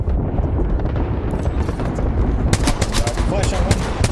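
Gunfire from the battle royale game Apex Legends during competitive scrims, with rapid dense bursts of shots rattling through noisy game ambience and players talking over the action.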